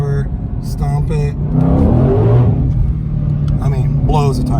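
A 2020 Ford Shelby GT500 pulls hard from second gear at about 40 mph, its engine roaring and rising in pitch as the tires break loose, loud and close, with someone talking over the start and end.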